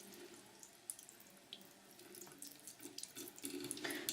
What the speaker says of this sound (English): you can go ahead and rinse it underwater.